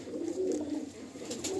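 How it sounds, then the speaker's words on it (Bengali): Chennai pigeons at a full loft give soft, low cooing calls that run continuously and close by, with faint flutters and rustles above them. "আমরা এক সেট চেন্নাই পায়রাই ছেড়ে দেখাচ্ছি আপনাদের"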